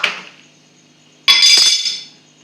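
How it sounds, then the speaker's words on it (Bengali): A coconut being cracked open gives a sudden, sharp, loud crack, close and bright, followed by a brief rattling ring that fades over about a second, with a fainter knock just before. "নারকেলটাকে ফাটিয়ে নেব"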